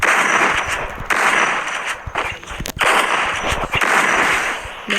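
Rapid automatic gunfire from a shooting video game, loud, close bursts of fast shots broken by short gaps, with no talking over them.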